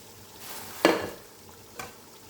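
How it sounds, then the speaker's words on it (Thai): Panang curry paste simmering with coconut milk in a pan, a soft stirring scrape and a brief sizzle burst near the middle, then a quieter second stir, over low kitchen hiss with no talking. "ตอนนี้ คุณพันก็เคี่ยวไปก่อนนะคะนี่แหละเคี่ยวน้ำกะทิ"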